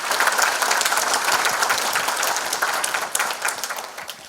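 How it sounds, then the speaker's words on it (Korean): An audience at a lecture in a district office gives loud, sustained applause to welcome a speaker to the front, many hands clapping evenly before the sound tapers off near the end. "큰 박수로 환영해 주시기 바랍니다."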